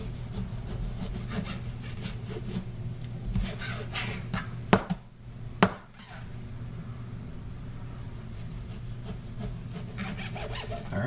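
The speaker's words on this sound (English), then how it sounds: "So, let's slice this pork" A knife slices through pork for schnitzel cutlets about three quarters of an inch thick, making a steady close rasping and scraping with a couple of sharp knocks midway.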